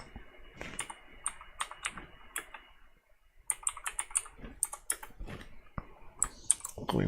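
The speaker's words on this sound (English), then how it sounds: "You can't see what you're typing down there." Rapid clicking keystrokes on a computer keyboard, in quick bursts with a short pause midway, close and fairly quiet, no voices.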